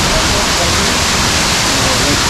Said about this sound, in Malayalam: അതുപോലെ വെള്ളച്ചാട്ടം ഇങ്ങനെ വീഴുന്നുണ്ട്